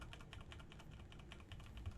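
Rapid, clattering computer keyboard typing up close during a GTA San Andreas speedrun, keys struck in a dense continuous patter for the whole stretch.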